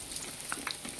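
Butchi, Filipino sesame rice balls, frying in hot oil, giving a steady close sizzle with small crackling pops throughout, no talk.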